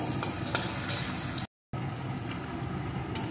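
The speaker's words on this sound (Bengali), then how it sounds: "এখন রসুনটাকেও একটু ভেজে নেব।" Crushed garlic fries with onion in hot oil, a close, steady hiss and crackle with light stirring, broken by a short gap of silence partway through.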